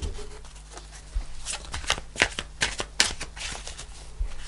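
A deck of tarot cards being shuffled at a table, giving soft, close, irregular riffling and slapping bursts over a low, steady background hum.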